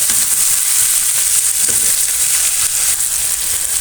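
Two chopped green chillies frying in a pan for vegetable pasta, a loud, steady, close sizzle with a bright crackling hiss throughout and no talk.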